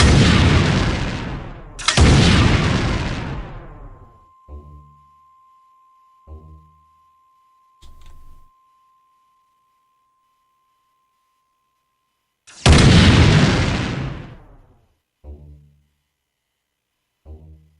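Heavy booming blasts from firing pads in the video game Realms of the Haunting: two big loud bursts back to back, a series of shorter thuds, a lone electronic tone held for a while, then another large blast followed by more thuds.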